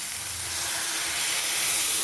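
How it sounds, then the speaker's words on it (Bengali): Water poured into a pan of spice masala fried for lauki with prawns and potatoes gives a loud, steady steaming hiss that swells slightly toward the end, with no voices. "মশলা দিয়ে খুব ভালো করে নেড়ে চেড়ে কষানো হয়ে গেছে এবারে আমি দিয়ে দেবো জল"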